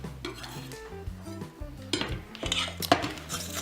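Chopped coriander is dumped into a bowl of guacamole and mixed, giving close clinks and scrapes of a utensil against the bowl, irregular and fairly quiet, with no talking.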